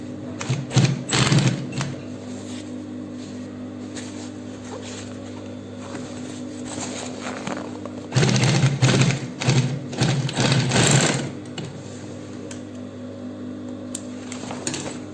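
A sewing machine sews Ankara fabric for a backpack in two busy, rattling runs close by, over a steady low hum that fills the pauses.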